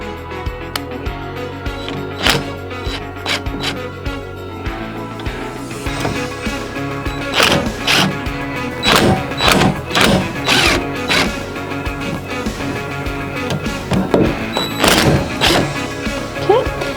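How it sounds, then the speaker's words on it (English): T25 screws on the motor of a DeWalt DWS780 saw are loosened by hand, giving a string of irregular close clicks, knocks and metallic thunks, some sharp and loud, with scraping handling noise between them. "we're going to gently loosen these 4 screws"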